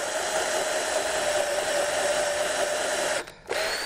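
A power drill bores into hard acacia wood while restoring a traditional corn crib, a steady close whine that runs unbroken for about three seconds, briefly cuts out, then resumes.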